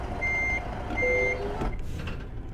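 Reversing beeps from a truck backing in at a Denver airport delivery in American Truck Simulator, a steady series of evenly spaced electronic beeps over a low idling engine rumble, followed by a brief hiss.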